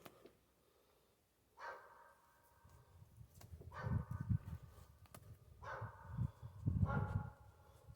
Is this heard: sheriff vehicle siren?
no